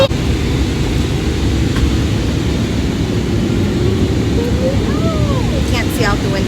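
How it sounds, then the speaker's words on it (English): Airliner cabin during the descent to landing, with a loud, steady broadband engine and air roar filling the whole stretch and a faint voice-like tone rising briefly near the end. "the plane gets really loud"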